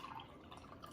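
Water poured into a homemade ginger bug soda starter, a steady soft trickle and splash heard close up, with no talking.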